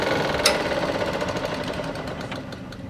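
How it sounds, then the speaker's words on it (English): A drill press in a workshop, switched off after drilling through a workpiece held in a vise, its motor hum steadily fading as it spins down, with a sharp tap near the start. "Switch off the drill and let it come to a complete stop."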